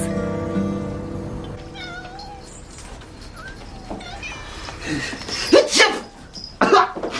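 Cats meow in a drama scene: several high, wavering meows come and go amid soft background noise, then louder cries near the end, with a brief voice audible.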